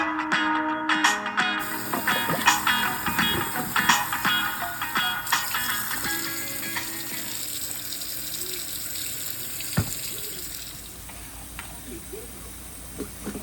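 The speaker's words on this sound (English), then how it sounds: "here I've just rinsed and kind of lightly scrubbed these dishes" Dishes are rinsed and lightly scrubbed under a running kitchen faucet, the steady splashing stream mixed with clinks of plates and cutlery, easing off toward the end.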